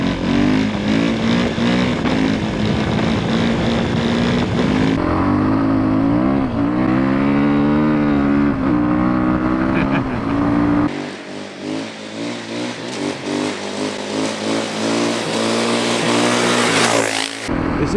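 Dirt bike engine droning steadily at cruising speed around 94 on an adventure ride, a loud continuous hum with shifting tone and wind noise throughout, close to the rider.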